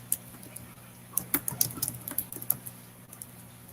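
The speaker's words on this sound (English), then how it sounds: "All I hear is your fingernail clicking." Fingernails click and tap on a computer keyboard in quick, irregular bursts of light, crisp ticks, close and fairly quiet over a low steady hum.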